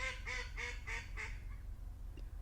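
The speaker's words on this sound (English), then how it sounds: "That was an annoying little duck." A small duck quacks five times in a quick, evenly spaced series, fairly close and clear over a steady low background hum, then falls quiet.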